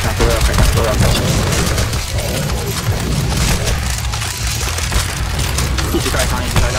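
Dense, continuous gunfire in a CS:GO zombie escape match, several weapons firing at once in a steady loud barrage with booms mixed in and no pauses.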